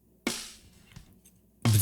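Two snare drums, top and bottom miked, are struck together with the processing bypassed, giving a couple of sharp, close hits with a rattling decay between them and no talking.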